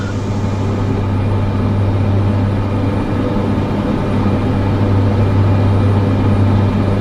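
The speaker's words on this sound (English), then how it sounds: "I can hear that jet, but I don't see it." A jet aircraft passing unseen somewhere below a light plane cruising near Brea, its roar lost inside a steady, loud cabin drone of engine and propeller that holds constant throughout.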